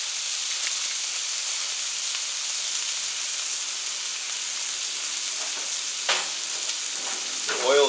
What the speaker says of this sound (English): Right now the burgers are getting a nice onion steam.